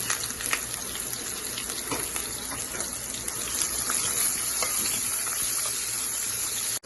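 Onions and green chillies frying in a pan for tomato biryani, a steady, dense sizzle that holds close and even throughout with no talk.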